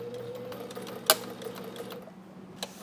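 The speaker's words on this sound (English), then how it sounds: "I sewed the vinyl to the Cordura with a 1/2 inch overlap." A sewing machine stitches vinyl to Cordura fabric for a tote bag, running with a steady, quiet mechanical hum and one brief click partway through.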